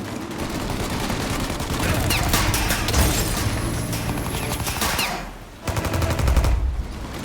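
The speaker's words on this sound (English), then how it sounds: "Shoot out their guns when there's a break in the fire!" A shootout in the video game Mafia: Definitive Edition brings dense, rapid bursts of gunfire with booming impacts, loud and continuous, briefly dipping before another volley.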